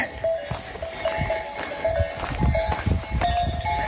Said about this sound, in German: Also quasi die Kühe tragen hier Pferdeglocken.